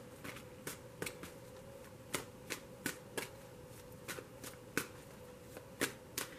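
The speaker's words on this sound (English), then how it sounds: "unless one flips over while I'm shuffling" Tarot cards are shuffled with crisp, repeated riffling snaps at an uneven rhythm, close by, over a faint steady hum.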